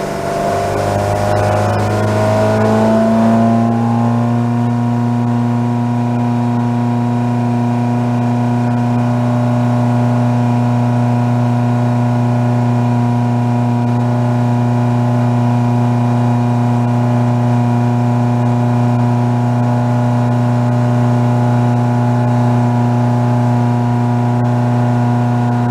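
Engine of a 34ft Hartley timber boat opened up to wide open throttle, rising briefly and then holding a loud, steady droning roar with a constant pitch, close and without any talk.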